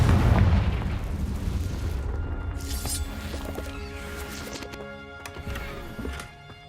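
A Confringo fire spell blasting in Hogwarts Legacy: a loud booming explosion up front that rumbles and decays over several seconds, followed by softer crackling debris and ringing game effects.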